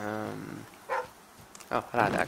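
Game dog from The Flame in the Flood barks in a couple of short bursts mixed with someone talking, the barks fairly close and moderately loud.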